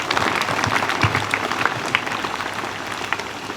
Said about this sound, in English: let's give a big round of applause for this meaningful words